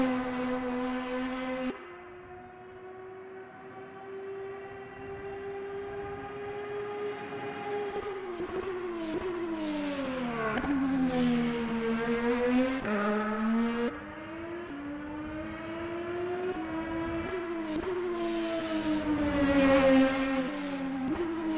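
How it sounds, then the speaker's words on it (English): An Indycar race car circles a track, its engine note rising and falling in pitch as it passes and accelerates, loud and continuous with no voices. "So here's an example of a car going around,"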